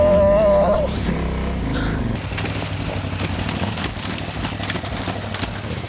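A KTM Adventure 990 R motorcycle crawls over rocky terrain in first gear at around 20 mph, its engine a steady low drone with rumble and rattle throughout, some tonal sound briefly overlapping at the start.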